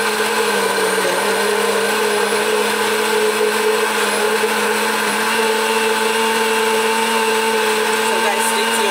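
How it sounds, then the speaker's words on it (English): A kitchen blender churns seasoning, a loud, continuous high whirring motor hum holding steady for around nine seconds. "One full blender of seasoning."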